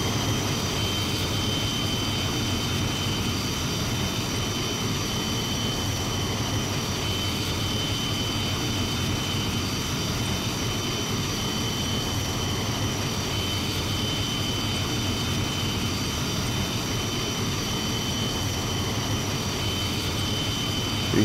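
The engine of a Bell X-1A in Microsoft Flight Simulator 2020 runs as a constant, even roar with a steady high whine on top, unbroken and loud for the whole stretch.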